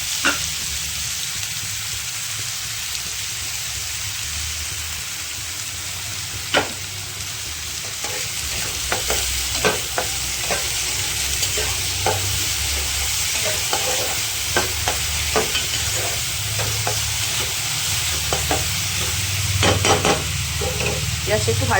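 Onions fry with salt in a pan, giving a continuous close sizzle, with frequent scraping strokes from a spoon as they are stirred, without voices.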